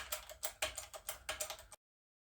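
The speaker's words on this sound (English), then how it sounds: "See if we can get a keyway put in our impeller. This aluminum ought to cut pretty easy." A keyway is cut into an aluminum water pump impeller on a press, giving a quick series of rhythmic scraping, clicking strokes, fairly faint and close, before abruptly stopping.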